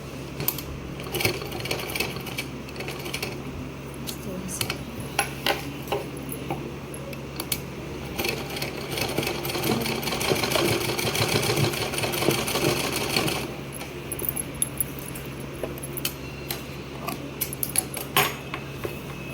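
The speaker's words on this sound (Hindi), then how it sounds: "इस तरह से हमें सिलाई करनी है" A sewing machine stitching a suit, its needle mechanism chattering in fast steady runs that stop and restart, growing fuller in the middle stretch, with small mechanical clicks and taps between runs.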